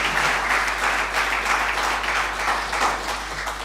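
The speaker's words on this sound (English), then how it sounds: "I think that perhaps we owe Dr. Njoroge a bigger round of applause, surely." Audience applause for Dr. Njoroge, a chief guest at a university computing and engineering school launch, a dense, steady round of clapping that holds for several seconds without talk.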